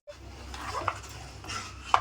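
A spoon stirs and scrapes through a thick jaggery and sesame dough mixture in a pot for pongadalu, with soft irregular scraping and a couple of sharper clinks against the vessel over a low background hum.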